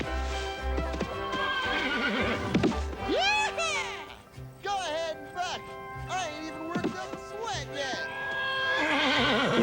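A horse neighs and whinnies repeatedly with loud, shrill cries over clattering hooves and thumps, with a voice shouting in the background.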